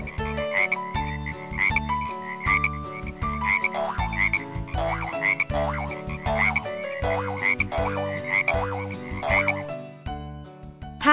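Repeated croaking frog calls woven into a lively, melodic music track, steady and prominent throughout with no talking.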